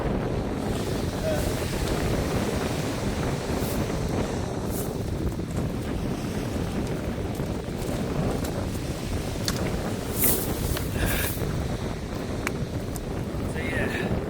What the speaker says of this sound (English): don't know if you can hear the wind. I think it is coming right at the camera